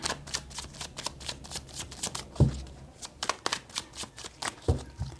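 Tarot cards are shuffled for a reading, making rapid, close riffling and flicking bursts with a few soft thumps, steady throughout and without talk.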